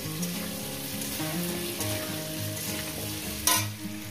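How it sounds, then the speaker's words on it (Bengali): Potatoes fry in a pan with a steady, close sizzle that runs throughout. A sharp clink of stirring comes near the end, and there is a faint tonal background underneath, with no speech. "এবার আলুটাকে সুন্দর করে মিনিট 5 ধরে ভালো করে ভেজে নেব"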